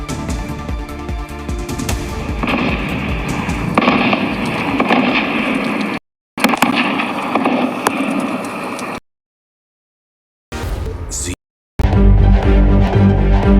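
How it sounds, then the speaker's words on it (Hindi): Gunfire crackles through an encounter as militants attack an army post in Rajouri, Jammu and Kashmir, with dense, loud bursts of shots and blasts filling long stretches, broken by a few abrupt silent gaps. "तो एनकाउंटर के दौरान गोलियों की आवाज भी सुनी जा रही थी।"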